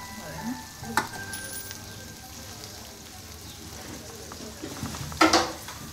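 Washed poha is stirred and mixed in a pan, a soft continuous sizzle under light scraping, with a sharp clink near the start and a louder scrape-clatter toward the end.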